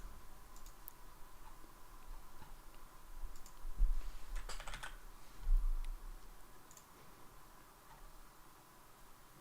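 Typing on a computer keyboard produces a run of light, fairly quiet key clicks in an irregular rhythm, with a brief flurry of louder taps in the middle and no talk.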